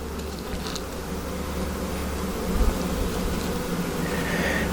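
Honeybees drone steadily inside an opened hive box during a warm-weather inspection, a dense, continuous hum held close and at even loudness throughout.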